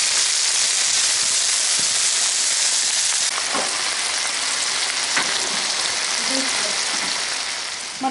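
Sweet peppers sizzle steadily in a hot frying pan as they soften for an eggplant and vegetable salad, a dense close crackle with a few faint stirring clinks and no voices.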